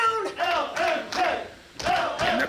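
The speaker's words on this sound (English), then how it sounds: "the crowd around ringside coming alive for Little Mean Kathleen" A ringside crowd at an intergender Limitless Wrestling match chants rhythmically in loud repeated bursts, a close, rowdy cheer building in waves.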